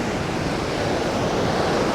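Ocean surf rolling and breaking on a Bali beach where surfers ride the waves, a steady close wash of whitewater roar with wind across the microphone and no talking.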